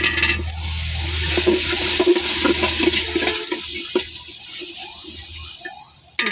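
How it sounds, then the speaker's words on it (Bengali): Mixed vegetables with turmeric and salt fry in a pan, giving a continuous hissing sizzle with a watery, rushing quality, scattered soft clicks and a low background hum, a brief knock near the end, and no speech. "সবজিটা দিয়ে নিব, সবজিটা একসাথে ভাজা ভাজা করে নিব।"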